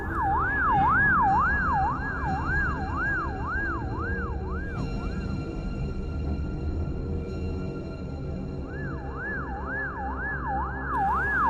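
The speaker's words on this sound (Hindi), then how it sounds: "बुल्ली एम्बुलेंस को हॉस्पिटल की तरफ ले जा रहा होता है" A cartoon ambulance siren wails in a steady rising and falling sweep, loud and close. It cuts out partway through and then starts up again, with a faint engine hum underneath.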